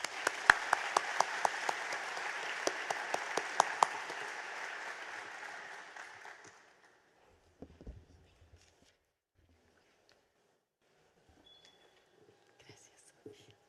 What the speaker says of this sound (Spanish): La recibimos con un fuerte aplauso a Rocío de Moreno.